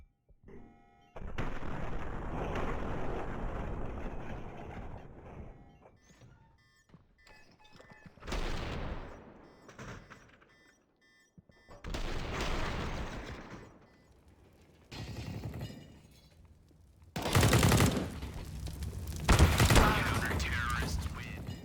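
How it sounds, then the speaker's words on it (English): Desert Eagle pistol shots in Counter-Strike gameplay, several sharp bursts of gunfire separated by quieter gaps with game sounds between them, fairly loud and close. "you're going to see s1mple essentially control the recoil of the deagle"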